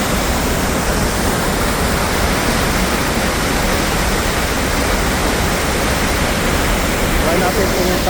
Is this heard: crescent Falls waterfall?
yes